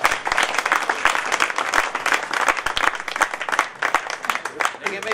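Loud applause from an audience at a gathering, dense clapping from many hands close by that swells and stays busy throughout, with faint voices under it.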